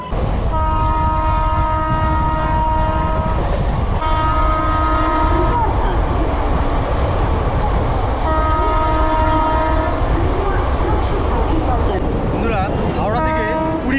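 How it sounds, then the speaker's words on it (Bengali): A passenger train on the Kolkata–Santiniketan route rolls toward Sheoraphuli junction with a constant loud rumble of wheels, while a horn sounds in several long blasts and someone speaks over the noise. "কিলোমিটার অতিক্রম করে আসার পর ট্রেন এখন এসে ঢুকলো শেওড়াফুলি জংশন"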